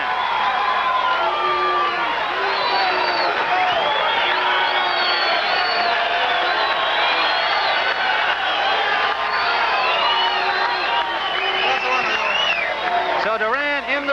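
A crowd of about 2,000 fills a Las Vegas boxing arena in searing heat for a 1981 Roberto Duran fight, keeping up a dense, steady roar of voices with whoops and cheers throughout, with a commentator speaking over it.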